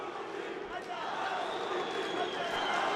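A large crowd at a professional boxing bout between Nasrudin Nasrudinov and Jorge Gonzalez roars and shouts in a steady, dense wash that builds slightly toward the end, with a commentator speaking over it.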